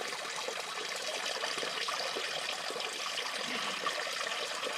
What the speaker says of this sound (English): I'm catching the water before it goes into the pool, like this, out of this little waterfall right here.